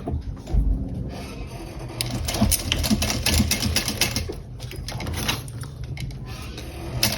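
Sewing machine top stitching a small bowler bag, a continuous close rapid clatter of the needle lasting the whole stretch with slight variations in pace and some handling rustle.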